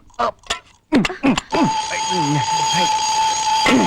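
Someone speaks briefly, then a steady electronic alarm clock begins beeping and ringing continuously under a few more words.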